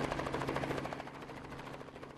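A helicopter flies close during a bottle-opening challenge at a helicopter tournament in China, its rotor giving a loud, rapid chopping pulse over a steady engine drone that eases slightly toward the end.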